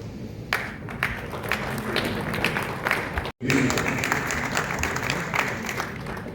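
An audience claps at an awards ceremony honouring judicial achievers, a dense, sustained wash of applause that drops out for a split second midway and then resumes at full strength.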